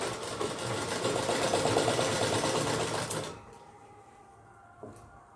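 A sewing machine stitches along the zip of a lehenga, starting right at the zip's end point, running loud and steady for about three seconds before stopping, leaving a quiet room with a faint brief knock.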